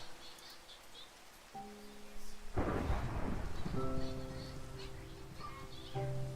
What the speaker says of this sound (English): skies got dark, so it's probably a thunderstorm